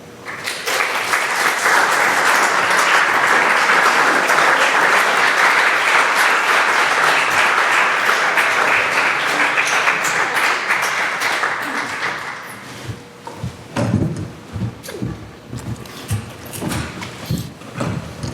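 A live audience at a panel discussion on local news claps to welcome the speakers, a dense, sustained round of applause lasting about twelve seconds before tapering off into scattered knocks and shuffling.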